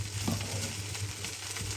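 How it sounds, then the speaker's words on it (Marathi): A kitchen tempering of asafoetida sizzles in hot oil, a quiet crackling hiss with a few small pops over the brief span, and no speech. "मस्त हिंगाची फोडणी दिली ना तर छान स्मेल येतं"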